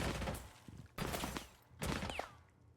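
Gunfire as players shoot through walls in a tactical shooter match, three loud bursts of rapid shots separated by short pauses, with no talk.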